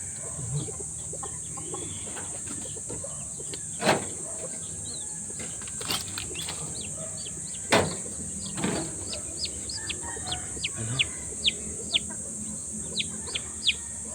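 A flock of chickens and young chicks cluck and peep, scattered short calls and chirps rising over a quiet steady background hiss, closer and more frequent toward the end.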